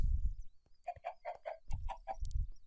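Several short clucking calls from Minecraft chickens come in quick bursts, fairly close and clear, with low thumping noises underneath and no talking.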